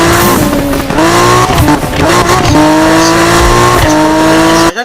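A turbocharged Toyota Supra in the 2015 Need for Speed video game revs hard through repeated gear changes, its loud engine note climbing and dropping several times, with tire squeal mixed in.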